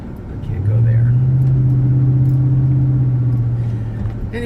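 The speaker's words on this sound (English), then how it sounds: "Anyway, this truck belonged to Mark" A pickup truck with a broken air conditioner drives along the road, a close steady engine drone and rumble that rises in pitch early, then holds evenly.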